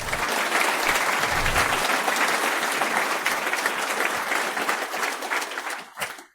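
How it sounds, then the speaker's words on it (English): A conference audience applauds steadily for several seconds after a talk, then the clapping fades out quickly. "Let's give a round of applause."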